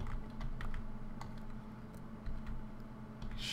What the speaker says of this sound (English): See that clicking? That was like tick, tick, tick, tick, tick.